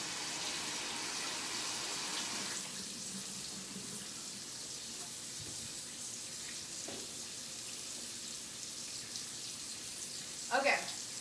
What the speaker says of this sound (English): I'm just going to rinse these little boys, these little potato boys.